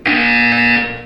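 A single loud electronic buzzer from the video game Portal 2 blares in a steady, harsh tone for about a second, then fades off.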